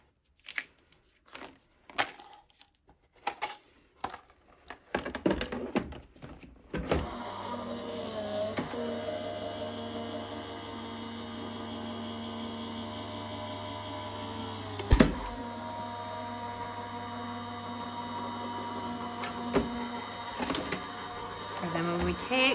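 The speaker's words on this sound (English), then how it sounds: "And then we're going to run this through our Gemini machine." A Gemini die-cutting machine runs a taped stencil through its rollers with a steady motorized hum and grinding drone after a series of taps and handling clicks. The sound is close and moderately quiet, with a louder clunk midway.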